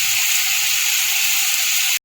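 Dal sizzling as it fries in a pan for madhukuri, a steady, loud hiss that holds evenly with no voices until it cuts off abruptly near the end.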